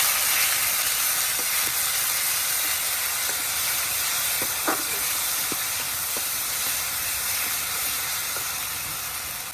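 Cumin, garam masala, dried chilli and bay leaf sizzling in hot oil left from frying fish, a loud, steady, close hiss with faint scattered pops throughout.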